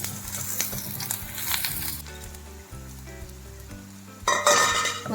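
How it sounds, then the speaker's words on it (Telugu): Fennel seeds frying in oil in a pan for mutton sherva, a steady close sizzle with light stirring scrapes and a brief clink near the end, no talk. "సోంపు వేసుకుంటే బాగుంటుంది టేస్ట్. మొత్తం బ్రౌన్ కలర్ వచ్చేదాకా వేయించుకోవాలి."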